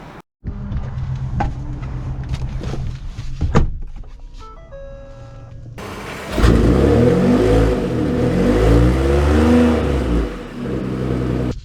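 A 2023 Ford F-150 Platinum pickup truck pulls away with a loud, steady engine drone and rising revs, following a quieter stretch of clunks, thuds and electronic chimes from inside the cab.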